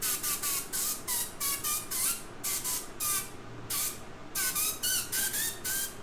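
Airbrush blowing air at good working pressure for lettering, a steady bright spray hiss pulsing on and off in rapid short bursts, close and loud with no talking.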